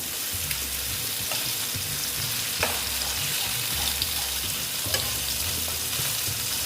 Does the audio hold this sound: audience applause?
no